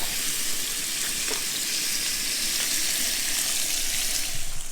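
Peppers, onions and garlic fry in olive oil over a camp stove outdoors, giving a loud, continuous close-up sizzle with faint stirring scrapes.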